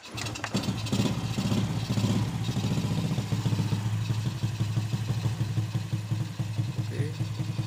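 A 1997 Honda Supra motorcycle engine idles steadily nearby with a low, even, rapid putter and light mechanical clatter, unchanging throughout.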